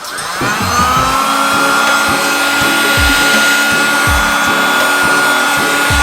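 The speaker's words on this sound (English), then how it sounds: "I'm gonna heat it, and as it stretches, it should shrink over that corner" A heat gun blows steadily and loudly, a continuous whooshing drone, while heating vinyl wrap on a Ducati Panigale 1299S motorcycle panel.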